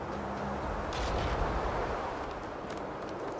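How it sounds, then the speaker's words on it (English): Chunky explosions in a video game during a tournament grand final match, where two Tyrants take splash damage, form a dense, continuous barrage of rumbling, booming bursts that stays loud throughout. "A lot of chunky explosions there."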